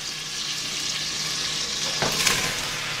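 Sausages frying in a pot give off a steady, close hiss of sizzling fat, with one brief louder crackle near the end and no talking.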